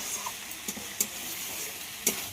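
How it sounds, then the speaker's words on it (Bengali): Spices for fish curry being sautéed in a pan, a steady soft sizzle with a few brief scrapes of a spoon stirring, close and fairly quiet. "মশলাগুলোকে খুব ভালোভাবে কষিয়ে নেব"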